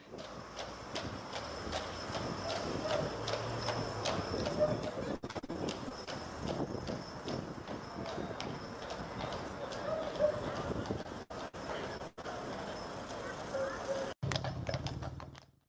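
Horse hooves clip-clop in a steady, even rhythm throughout, partly beneath people talking over the whole stretch.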